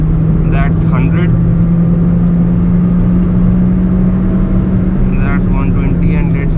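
A Hyundai i10 1.2 Kappa petrol engine pulls hard near 6000 rpm, its steady loud drone running through an upshift, with someone talking over the engine noise inside the car.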